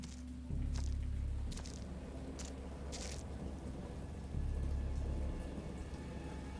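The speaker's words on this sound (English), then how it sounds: "I heard peals of thunder" Stormy visual-novel sound effect of steady rain pattering with two deep rolling peals of thunder, one near the start and another later, over a constant hiss of rainfall.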